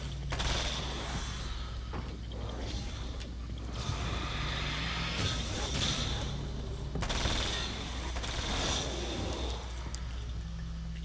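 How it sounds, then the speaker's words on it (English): Rapid submachine gun fire in the game Alan Wake's American Nightmare, steady bursts of shots over a constant low game hum and background rumble, fairly loud throughout with a few louder stretches. "Fortunately, I have a submachine gun"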